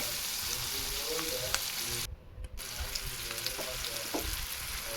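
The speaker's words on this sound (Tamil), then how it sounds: "மஞ்சத்தூள் தேவையான அளவு போட்டுக்கோங்க நல்லா வசக்கி விட்டுருங்க" Tomatoes and turmeric powder sizzle and fry in a pan for a brinjal gravy, with a steady close crackle, scraping stirs and a brief drop in the hiss midway.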